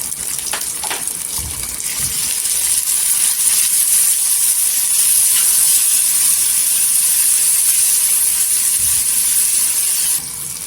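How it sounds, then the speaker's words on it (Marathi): Tomato, green chili and garlic sautéing in oil, a steady hissing sizzle with light crackles and pops running continuously, fairly close and alone. "इथे छान असा टोमॅटो हिरवी मिरची आणि लसूण तेलावर परतून घेतलेली आहे"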